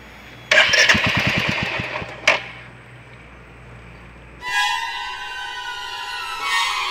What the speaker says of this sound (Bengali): এই দেখুন স্টার্ট দিচ্ছি, বন্ধ হয়ে যাচ্ছে